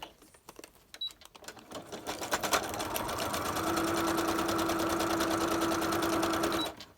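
A sewing machine runs a zigzag stitch through a blue cereal-box liner, steady and close for about three seconds after a few scattered clicks and handling knocks.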